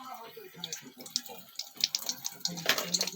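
Water drips and trickles from grated bottle gourd squeezed in a cloth bundle, soft patters over a close background with brief voice sounds.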